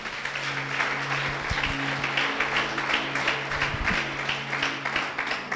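A congregation applauding during a Sunday morning church service, moderate, steady clapping with organ or keyboard tones humming underneath and a few louder thumps.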